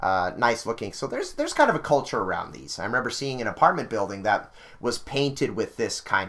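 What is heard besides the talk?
No distinct noise like a dog, phone or traffic.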